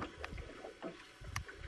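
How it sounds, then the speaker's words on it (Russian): A small rowboat moves across Lake Peipus on a summer day, with faint, soft water splashes and oar strokes over light wind noise. "Плывем в лодке по Чудскому озеру."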